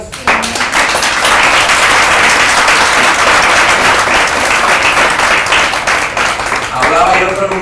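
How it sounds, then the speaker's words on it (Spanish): A church congregation gives loud, sustained applause that fills the room, dense clapping from many hands close by that fades slightly near the end. "¿Puedes dar un aplauso a Dios?"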